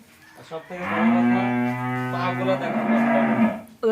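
A Holstein Friesian heifer lets out one long, loud, drawn-out moo, close by, ending with a brief rougher note.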